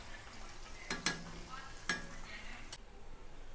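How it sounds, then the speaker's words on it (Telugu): Veg Manchurian balls deep-frying in oil, a quiet steady sizzle broken by a few sharp metallic clinks of a spoon or slotted ladle, close up. "ఇలా గోల్డెన్ బ్రౌన్ వచ్చే వరకు మంచిగా ఫ్రై చేసుకోండి, డీప్ ఫ్రై."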